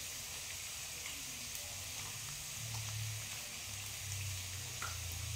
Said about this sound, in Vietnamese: Chờ mẹ chiên một tí nữa rồi mẹ lấy hai chị em ăn luôn thế nhỉ.